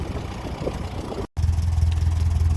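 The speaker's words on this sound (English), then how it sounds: "It's a lot quieter of an engine than the Ferguson 20 diesel" A 1957 Ferguson 35 tractor with a TVO engine runs at a steady idle close by, an even low throb with a brief break before it continues.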